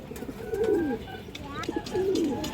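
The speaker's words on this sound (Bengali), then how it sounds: "একদম চঞ্চল সুস্থ সবল কবুতর আছে" Pigeons at a farm that breeds and sells colouring, racing and high-flyer birds give two soft, rolling coos a second or so apart, fairly faint, over a quiet background.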